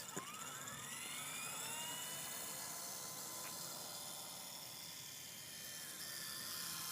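A WLtoys V912 remote-control helicopter flies nearby outdoors, its small motor and rotors giving a continuous high whine with faint pitch shifts as throttle changes.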